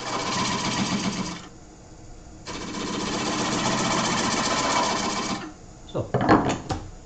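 Wood being turned on a lathe as a cutting tool makes a square cut into a funnel, a buzzing, chattering cut in two long passes separated by a pause, then a few scraping knocks, close and loud, no speech.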